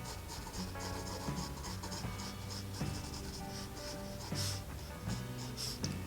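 Pencil sketching very light lines on paper for a lighthouse drawing, a soft continuous scratchy rub with short repeated strokes, close and steady under a faint background hum.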